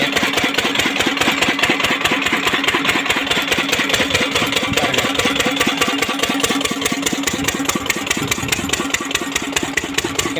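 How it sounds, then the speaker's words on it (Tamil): Oil engine running a water pump for an okra field, a loud, close, steady rapid thumping chug with a mid-pitched mechanical drone, continuous throughout with no voices. "எத்தனை பேர் இந்த மாதிரி ஆயில் இன்ஜின் ஓட்டி எத்தனை பேர் விவசாயம் பண்ணியிருக்கீங்க"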